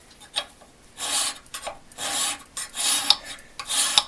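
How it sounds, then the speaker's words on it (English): Hand filing on a North Bros Yankee No. 990 drill press vise, a metal workpiece, with four or five long rasping strokes in a steady rhythm, close and fairly loud with short pauses between strokes. "filing,"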